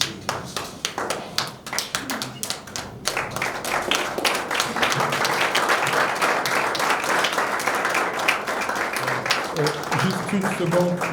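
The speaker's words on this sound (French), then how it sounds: "je souhaiterais, s'il vous plaît, que vous vous tenez debout et que vous les applaudissiez" A standing audience at an association election and handover ceremony breaks into applause, sparse taps at first swelling into dense, sustained clapping, with voices faintly heard beneath.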